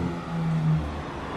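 Sports cars in a convoy, a Porsche GT3 RS among them, roll past close by with a low engine hum that swells briefly as one passes, then settles back to a steady rumble.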